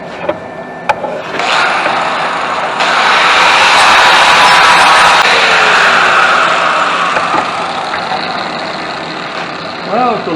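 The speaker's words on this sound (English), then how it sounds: "Now we'll get the wire wheel on it." A wire wheel on a grinder cleans slag off a fresh stick weld from an Arc 120 welder, a loud rising whir that holds steady for several seconds and then winds down, with a voice briefly heard near the end.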